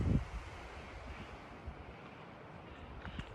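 Gusty wind buffets the microphone on an exposed mountain trail on the Pacific Crest Trail toward San Jacinto, a low, steady rumbling roar with a brief thump at the start.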